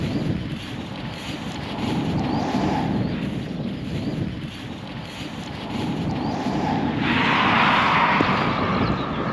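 A helicopter near West Kennett Long Barrow at Avebury drones faintly and steadily in the distance under gusty wind noise, with no one speaking.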